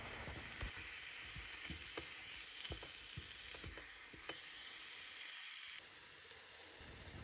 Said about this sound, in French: Ajoutez la chair de la courge et cuire pendant environ 5-6 minutes.